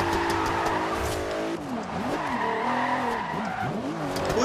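Tires skid and squeal continuously as a McLaren P1 drifts in Forza Horizon 2, wavering pitched screeches sweeping up and down over a loud engine, close and prominent with no talk.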